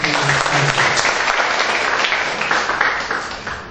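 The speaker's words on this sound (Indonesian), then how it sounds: "Kita beri aplaus untuk" Audience applause at a university constitutional debate competition: dense, steady clapping from a crowd, loud and close, fading slightly at the end.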